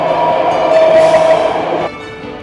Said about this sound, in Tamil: இத வந்துச்சு பாருங்க நம்ம ட்ரெயின்.